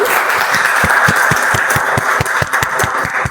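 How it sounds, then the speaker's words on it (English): An audience at a Toastmasters meeting claps for a club member, a broad wash of applause with strong individual slaps standing out in an irregular rhythm, fairly loud and close, with no talk. "Can we have a better round of applause for wonderful Sajay Downs?"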